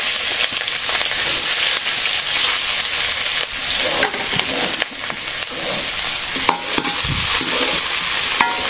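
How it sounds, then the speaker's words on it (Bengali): Chopped onion and garlic fry in hot oil with a dried red chilli and whole cumin, giving a loud continuous sizzle broken by scraping stirs and occasional clattering knocks of the spoon against the pan. "তো পেঁয়াজ ভাজা হয়ে গেছে"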